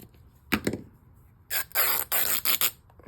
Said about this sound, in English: Maybe I will cut this down a little bit.